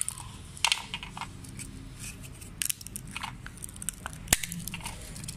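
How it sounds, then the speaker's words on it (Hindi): Dried pomegranate peels crushed and snapped by hand, giving a run of dry crackling crunches and sharp brittle snaps close up, with a few louder breaks scattered through the stretch and no talking. "अब हमारे छिलके सूख गए। देखें आप ज़रा इसकी आवाज़ सुने।"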